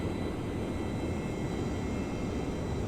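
An F/A-18 jet in the IL-2 1946 flight simulator, shaking under a hard turn, gives a steady, loud, broadband engine roar that holds without a break.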